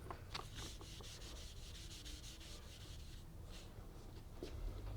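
Pencil shading scrubbed back and forth on drawing paper, a steady, close, dry rubbing with quick repeated strokes that runs unbroken throughout, with no voices.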